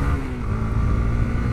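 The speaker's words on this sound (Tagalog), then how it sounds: "Malakas yung hatak ng makina." A Honda CB150X motorcycle accelerates uphill on a mountain road, its engine droning steadily with a continuous, fairly loud, even tone and no speech.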